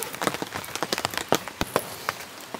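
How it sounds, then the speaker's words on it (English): Rain patters on a camping tent and tarp in an irregular run of close, crisp drops, some louder taps standing out, with no voices. "The rain's coming down pretty nice."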